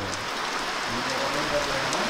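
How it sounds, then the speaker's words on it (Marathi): Light rain patters steadily in a Konkan village at Aambivali, Mandangad, under sunshine. It is a faint, even hiss of drops with no clear pauses, and no one speaks. "पाऊस तर आलाय तर खरा, काय जोर नाही."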